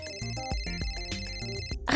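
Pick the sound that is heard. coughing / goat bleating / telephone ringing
telephone ringing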